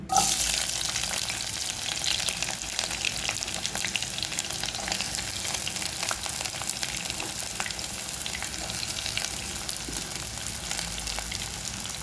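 Chopped onions and green chillies frying in refined oil, a loud, steady close-up sizzle with a crackly hiss and occasional stirring scrapes, no voices.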